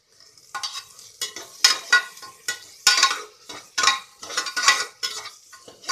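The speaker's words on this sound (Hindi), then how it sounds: "1 मिनट तक हमने इसे चलाते हुए भून लिया है।" Potatoes in a cooked masala are stirred in a pan with a spoon, giving a series of rhythmic scraping strokes over a soft frying sizzle, close and fairly loud, with no talking.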